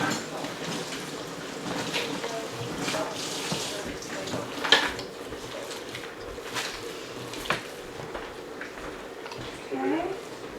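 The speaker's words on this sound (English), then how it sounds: "I'm going to wash my hands" A kitchen tap runs steadily while hands are washed beneath it, a continuous rushing splash with small clinks and shifts in the water's sound.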